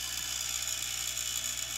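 A steady, high-pitched mechanical whir with a faint rattling buzz from an Aqueon 1250 aquarium circulation pump running out of water, continuous and even throughout, close by with no voices.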